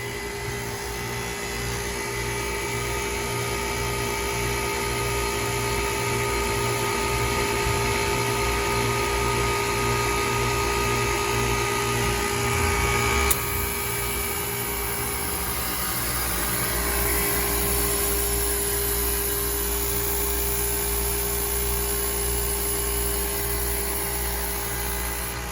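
A 2008 KKT chiller compressor runs steadily and loudly at close range, a dense mechanical hum with strong tonal whine and broadband hiss; one refrigerant circuit has a fault, and partway through the tone shifts slightly as the machine keeps going.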